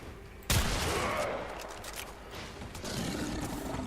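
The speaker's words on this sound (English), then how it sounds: "I'm getting shot at." Shotgun fire in the video game Warframe, a sharp loud blast followed by a rumbling roar of continued gunfire and game noise, with a short low voice underneath.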